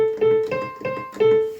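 A simple layered piano patch played from a MIDI keyboard into Korg Volca gear, striking four short repeated chords in an even rhythm, close and clear with no talking.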